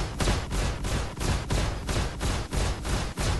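A video game ship in Spaze Magik opens fire on a station with loud, rapid, evenly spaced shots that pound out a steady rhythm for a few seconds.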